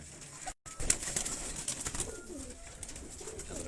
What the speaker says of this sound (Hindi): ये वो कबूतर हैं खाक सिरे।